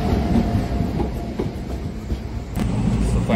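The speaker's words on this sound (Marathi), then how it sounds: "सो फायनली आपली मडगाव नागपूर स्पेशल ट्रेन आलेली आहे" The Madgaon–Nagpur special passenger train rolls into Panvel station, a loud, close rumble of railcars with rhythmic clickety-clack of wheels over rail joints and a sharp metallic squeal near the end.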